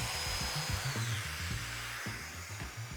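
Power tool cutting tight and loose mortises in a panel for a mobile MFT cart, a continuous low whirring drone with rhythmic pulsing and one brief dip near the end.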